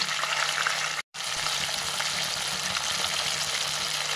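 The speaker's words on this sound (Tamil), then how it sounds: "மீன் ஒரு பக்கம் நல்லா ஃப்ரை ஆகிடுச்சு." Fish frying in a pan with curry leaves sputters in a dense, steady sizzle heard up close, with one very brief dropout near the start.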